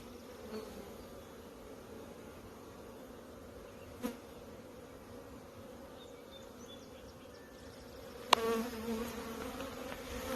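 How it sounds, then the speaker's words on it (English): A calm, queenright honey bee colony in an open Michigan hive hums with a steady, even buzz. A few brief clicks and knocks rise above the drone. "The hive has a good sound to it. It doesn't have that nervous queenless sound."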